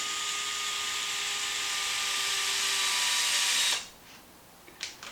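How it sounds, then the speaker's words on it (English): A power drill or driver runs steadily for nearly four seconds, a high whine driving a screw back into the rear suspension arm of a Traxxas Maxx RC truck, then stops abruptly, leaving faint clicks and handling noises. "let's run this screw back in"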